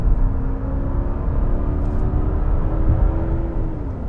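A 2020 Genesis G90 sedan with a big V8 accelerating hard out of a sharp turn, its engine a loud, steady rumble with rising tonal whine held close throughout.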